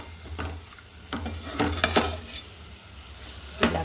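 Tamarind leaf curry frying in a pan as chili powder is stirred in, with a steady sizzle under repeated scraping and stirring strokes, one sharper clack near the end.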